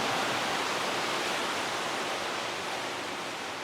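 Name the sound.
indoor artificial waterfall in saltwater bunker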